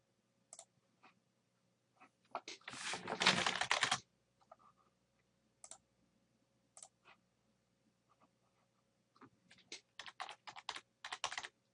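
Typing on a computer keyboard into a Word document. Sparse single keystrokes and short bursts of clicking, with a dense rattling flurry partway through, sound close and quiet over near silence.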